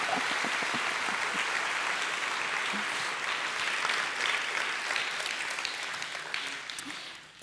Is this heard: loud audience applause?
yes